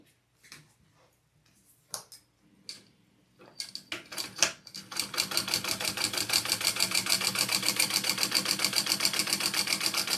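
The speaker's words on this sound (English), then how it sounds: "So I'm sewing on the black vinyl part." A sewing machine stitches black vinyl for a crossbody bag, starting with a few separate clicks and short bursts, then settling into a steady, fast, even run of needle strokes that stays close and moderately loud.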